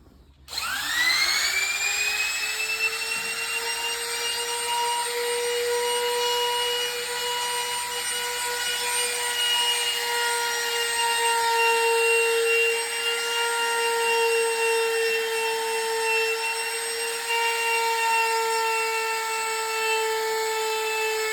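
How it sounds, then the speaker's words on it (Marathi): A power router fitted with a 6 mm bit starts up and spins at a high, steady whine, trimming a laminate edge, running continuously and loudly close by with little variation. "आपण राउटर मशीनला 6 एमचे बीट लावलं आहे."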